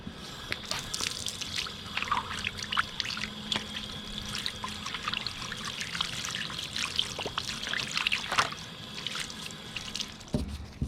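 Tap water trickles and splashes steadily over a metal hand tool being rinsed after rust removal, close and continuous, with scattered drips and small clinks throughout.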